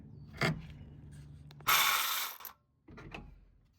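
Ratcheting of a wrench undoing a 14mm screw on an exhaust bracket under a 2015-era Acura TLX during front bank 2 catalytic converter removal: a short click burst, then a louder rasping ratchet run of about a second, then lighter clicks.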